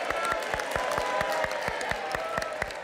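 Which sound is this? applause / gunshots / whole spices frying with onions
applause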